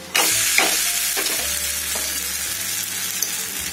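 A wheat roti cooks on a pan over a medium flame, giving a steady, soft sizzle with a few faint taps and scrapes, close by and with no voices.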